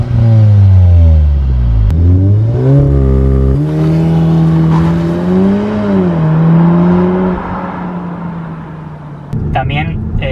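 Cupra Ateca engine revving hard several times, with rising and falling roars followed by a fading exhaust note and faint popping toward the end, loud and close.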